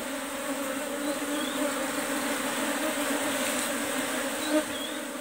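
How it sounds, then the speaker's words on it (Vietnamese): Wild worker bees buzz around a freshly harvested hive, a steady close drone that holds at an even level with an occasional louder pass from a single bee, with no voices. "Hôm nay ít ong thợ lắm."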